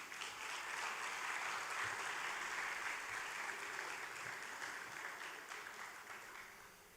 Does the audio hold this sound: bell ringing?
no